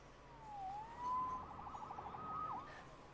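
Police siren in the video game Marvel's Spider-Man, a quiet wailing tone that rises and falls a few times over a low background hum, faint and somewhat distant.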